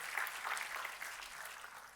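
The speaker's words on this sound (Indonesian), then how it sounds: "Tepuk tangannya pula yang paling meriah buat Tuhan kita." Church congregation applauding at a sermon, a dense, steady wash of many hands clapping at a distance, fairly faint and continuous throughout.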